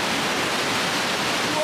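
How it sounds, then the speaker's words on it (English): Loud, dense roar of rushing water at a river spillway and rapids in Trollhättan, Sweden, continuous and close with no break. "The water is getting louder, you can hear it."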